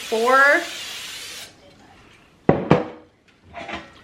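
A short hissing burst of cooking spray onto a metal bread pan, then a few sharp clinks and taps of the pan nearby, with brief talking at the start.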